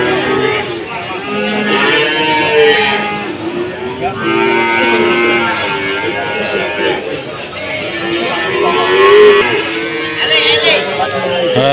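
Cattle mooing at a busy livestock market where bulls are being sold, loud repeated lowing calls close by over a constant murmur of people chattering.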